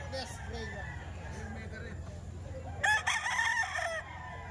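A bull stag gamecock crows once, loud and near, in a short burst late in the scene. Someone talks steadily throughout over low farmyard clucking and ambient noise.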